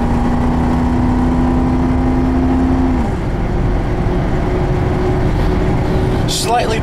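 A 1988 Ford Grand Marquis engine accelerating, a loud, steady drone with a rising whine that drops as the gear changes partway through, heard close from inside the car.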